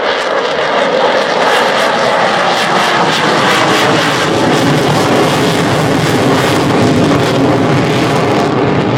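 The Avro Vulcan XH558 jet bomber roars overhead during a spiral climb at an air day display, a loud, continuous, broad jet rumble and howl that stays strong for the whole stretch, with no voices over it.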